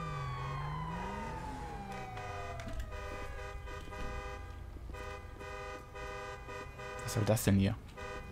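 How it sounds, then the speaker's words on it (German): In the LSPDFR police game, a car horn sounds amid sustained siren-like tones and traffic noise, then a loud horn burst blares near the end while someone speaks over it. "Alter, wer hupt denn hier so bescheuert?"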